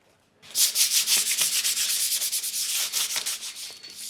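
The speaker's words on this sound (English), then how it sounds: "A little bit of sandpaper." Sandpaper rubbed in quick back-and-forth strokes over a metal edge on a Model A hot rod firewall, a steady close scratchy rasp with a rhythmic pulse lasting several seconds, no talking.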